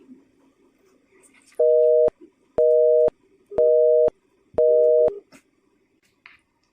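Telephone busy or ringback tone on an outgoing prank call, four identical steady beeps of about half a second, evenly spaced, loud and clear over a faint background murmur.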